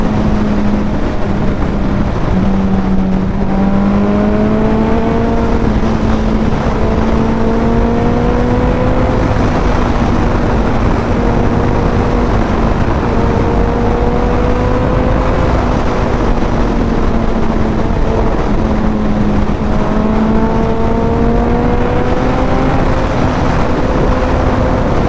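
A Ducati V4 motorcycle engine drones loudly and continuously while riding, its pitch rising and falling through gear changes over a constant roar of wind and road noise.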